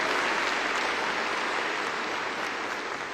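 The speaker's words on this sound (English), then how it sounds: "Let's give our academic deans a round of applause." A steady round of applause from a large audience at a university commencement ceremony, dense and sustained clapping that fades slightly toward the end.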